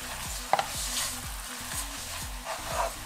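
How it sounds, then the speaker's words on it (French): Medium-grain couscous being stirred into a tomato sauce in a pan, giving repeated close scraping and sloshing strokes over a soft sizzle, with no talk. "On va mélanger."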